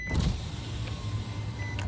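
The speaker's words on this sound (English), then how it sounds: "Let me roll this window down" Inside a hot parked car, an electric power window whirs as it rolls down, a close steady motor hum with a faint whine, alongside the low idle rumble of the vehicle, ending with a soft click.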